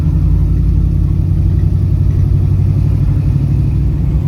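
A Ford Mustang's engine pulls smoothly under acceleration, giving a loud, steady, close-up rumble that holds even and unbroken, with no talking.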